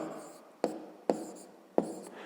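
A pen writes out a math calculation on paper: a soft continuous scratching broken by three distinct tapping strokes, close and quiet, with no talking.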